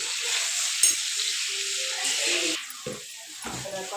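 Fish fries in a pan with a steady, close hiss of sizzling oil. The crackle holds throughout, with a few brief stirring noises and soft bursts of voice underneath.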